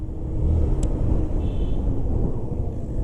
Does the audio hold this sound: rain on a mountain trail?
no